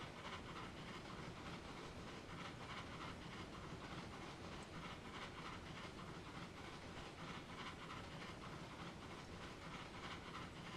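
A tram runs along its track in the Trainz railway simulator, giving a steady, unbroken rumble with faint rhythmic clatter and hiss throughout, and no voices.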